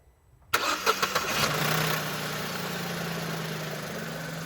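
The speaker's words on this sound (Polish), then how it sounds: "No, proszę odpalić auto." An Opel Agila car engine cranks with a few quick stutters, then catches and settles into a steady, close idle.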